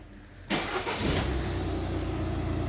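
A 2012 Peugeot 5008 engine cranks and catches abruptly, then settles into a steady, close idle rumble with no talking.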